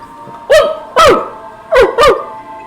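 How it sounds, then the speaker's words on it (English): Four sharp barks from a dog, spaced unevenly in two pairs, standing out over a low steady hum. "you guys hear a distant barking"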